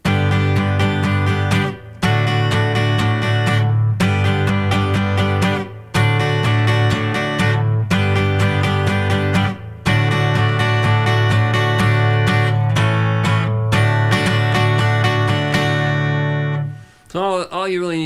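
An electric guitar plays the bridge of a song in sustained, rhythmic chords broken by short gaps, ending with a bent, wavering note.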